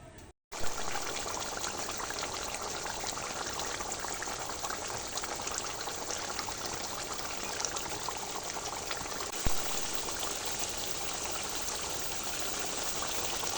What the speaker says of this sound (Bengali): তেলটা বেরিয়ে কি সুন্দরভাবে ফুটছে